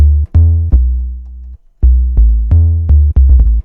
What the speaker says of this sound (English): show you how to make a bass in Serum